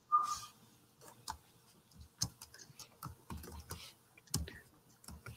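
Keys on a computer keyboard are tapped in short, irregular bursts with pauses between, fairly close but quiet, during a Python command-line lesson.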